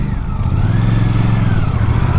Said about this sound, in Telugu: బట్ రాయల్ ఎన్ఫీల్డ్ ఈ బైక్తో చేసిన ఒక మంచి పని ఏంటంటే ఇంజన్ రిఫైన్ చాలా బాగుంది.